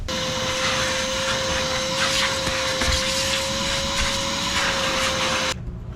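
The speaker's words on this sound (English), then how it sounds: "we're going to give her a vacuum while we're in here" A vacuum cleaner running steadily inside a Tesla Model Y over the driver's floor, a loud continuous whine with shifting rushes of suction, cutting off abruptly near the end.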